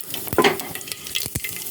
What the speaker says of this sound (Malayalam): കുക്കറിൽ ഇതാ വെളിച്ചെണ്ണ ചൂടായി കടുക് ഇടാം